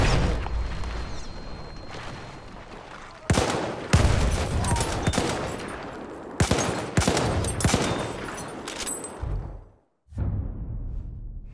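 Sustained bursts of automatic gunfire crackle through a Battlefield 1 firefight as players shoot the cables holding up a building, with loud volleys and heavy booms through most of the stretch before a brief drop near the end.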